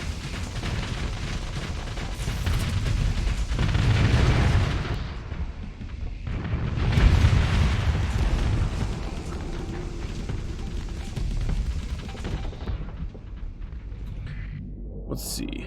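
Ship weapons in the Starsector space game fire and explode as deep rumbling booms that swell twice over a dense roar of mechanical noise, running loud for most of the stretch.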